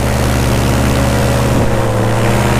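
An EOS 150 paramotor engine roars at full power during a no-wind takeoff, a loud, dense, continuous propeller drone heard up close with no talking.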